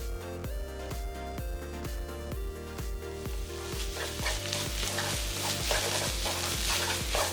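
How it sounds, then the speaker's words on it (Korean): Steady sizzling and stirring of bracken with perilla oil in a pan over medium-low heat, over a rhythmic beat of background music, with frying crackle growing denser toward the end. "중약불에 팬 올려서 충분히 볶아주고"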